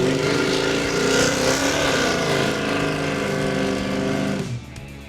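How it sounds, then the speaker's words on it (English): A Dodge Dart hot rod rumbles with a deep, throaty exhaust tone at low speed, loud and steady before tapering off near the end. "at low speeds, you can definitely hear the exhaust, you hear the tone."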